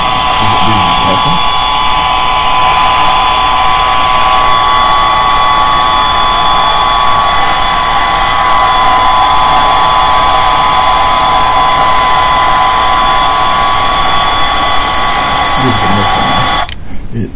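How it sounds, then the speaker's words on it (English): An electric motor spinning a flywheel generator setup, a loud steady high-pitched whine with constant tonal hum throughout, someone speaking over it. "This is the flywheel. There is the motor. This is the generator."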